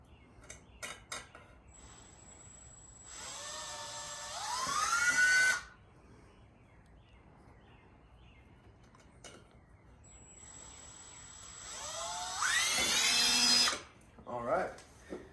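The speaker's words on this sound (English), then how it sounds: "We're gonna drill 2 holes in the side of the can to make an entryway so we can attach the neck." A power drill whines in two bursts, each rising in pitch as it bites into the thin metal side of a can, with quiet stretches and faint handling noise between.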